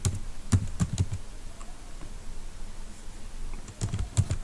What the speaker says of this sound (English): Just go ahead to your keyboard and type.